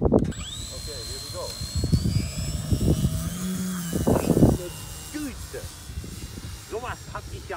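PA Ultimate AMR 60 RC model airplane taking off, its engine whine rising and sweeping steadily upward in pitch as it climbs away, heard under loud nearby voices talking and exclaiming.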